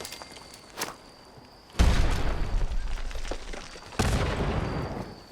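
A grenade explodes in the Fallout 76 video game, then a second one goes off a couple of seconds later. Both are loud, broadband blasts that leave a rumbling tail, and a faint pop comes before them.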